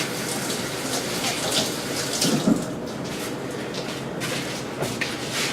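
Hands rinsed under a running kitchen tap while cooking pernil, a steady broadband water hiss with a brief splash near the middle, moderately close with no talk.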